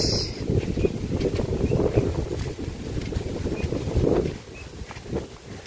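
Strong wind blowing outdoors beside a house, a loud continuous rumbling buffet across the microphone with gusts rising and falling throughout, no voices.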